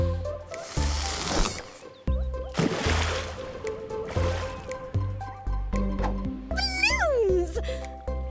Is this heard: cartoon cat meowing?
yes